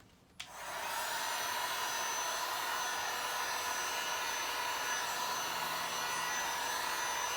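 Heat gun warming vinyl wrap on the rear bumper of an MR2, starting with a click and then blowing as a steady, loud, close whoosh that continues unbroken, with no talking.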